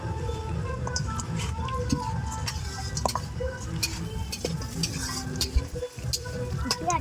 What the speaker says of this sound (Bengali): আর এদিকে দেখো মাংস ম্যারিনেট করা হচ্ছে